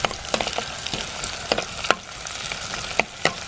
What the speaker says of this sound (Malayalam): വെളിച്ചെണ്ണ ചൂടായി കഴിയുമ്പോൾ നമ്മൾ അരിഞ്ഞു വെച്ചിട്ടുള്ള ഇഞ്ചി, ചുവന്നുള്ളി, പച്ചമുളക് എത്ര ഇട്ടൊന്ന് വാട്ടിയെടുക്കണം.